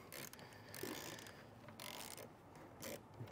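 A ratchet wrench clicks steadily while loosening a 13mm nut from a battery power post on a 2020 Jeep Grand Cherokee, a faint close mechanical ticking with no talk.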